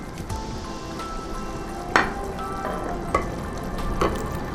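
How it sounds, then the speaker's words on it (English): A lotus stem and makhana curry simmering in a pan, a soft steady bubbling sizzle with a few light clinks and stirring scrapes, close and without speech. "The curry is simmering"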